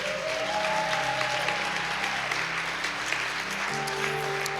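A church congregation claps and cheers for Jesus in a dense, steady burst of applause filling the room, with organ or keyboard chords sustained underneath.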